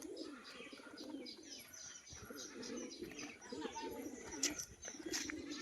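A male pigeon gives repeated rolling coos at close range, with a few faint chirps mixed in and no speech.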